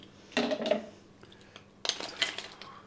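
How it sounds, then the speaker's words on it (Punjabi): Homemade ice cubes from the fridge dropped into a vessel of bael sharbat, two short bursts of clinking and rattling against the container, separated by a quiet gap, close and crisp. "ਹੁਣ ਅਸੀਂ ਪਾਉਂਦੇ ਆ ਇਹਦੇ ਵਿੱਚ ਥੋੜੀ ਜੀ ਬਰਫ਼"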